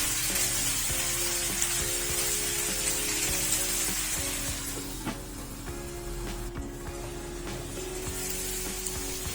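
Chicken pieces searing in oil in a frying pan give a steady, loud sizzle with some spatter and occasional scraping, running alone throughout and easing slightly halfway.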